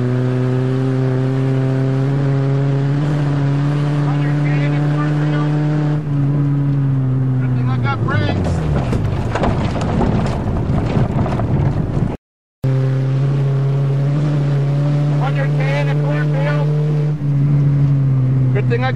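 A revived dead Saturn car on a farm idles with a steady harmonic engine drone, then revs and drives off with a rough rising roar and rattling, drops briefly, and settles back to a loud running hum, with speech over it.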